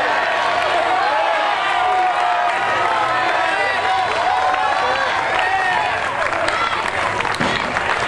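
A crowd at a high school lift-a-thon cheers and claps steadily and loudly for a 350-pound bench press attempt, a dense, continuous roar with scattered shouts.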